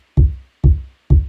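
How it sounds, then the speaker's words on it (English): Three deep, booming synthesized kick drum hits land evenly spaced, each with a quick attack and a short low decay. "So the low kick sounds like this"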